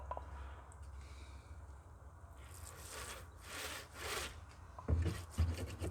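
Wax rubbed by hand onto a beehive foundation sheet in a commercial beekeeping setup, a soft steady scraping friction that swells in the middle and ends with a few louder thumps, fairly faint throughout.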